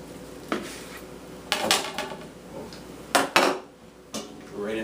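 A knife cuts rested corned beef on a cutting board, producing a few separate sharp clacks and knocks against the board with quieter scraping between them, close by and fairly clear.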